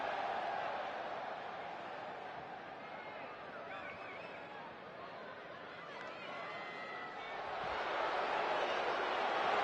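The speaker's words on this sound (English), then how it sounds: "Would you listen to this crowd?" A large arena crowd in the NBA 2K20 video game roars and cheers continuously, a dense wash of voices that swells louder toward the end.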